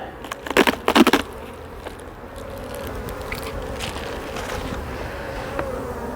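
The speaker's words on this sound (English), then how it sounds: "I've got plenty of bees" Honey bees buzz around an open hive while the frames are inspected, a steady close drone with a few louder bursts as bees fly near early on, then a continuous hum.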